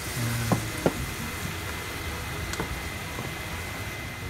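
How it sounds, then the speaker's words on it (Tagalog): Soy sauce stirred into onion and garlic sautéing in a pan for adobong sitaw, a steady soft sizzle with a few light scrapes and clinks of the spoon. "Haluin na lang po ang 3 tablespoon natin toyo."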